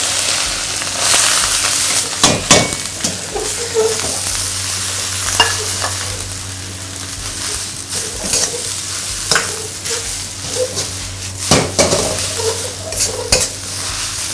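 Shrimp and egg with Colubrina asiatica greens stir-fry in a hot wok over high heat, oil sizzling and spattering steadily while a utensil scrapes and clanks against the pan in repeated bursts.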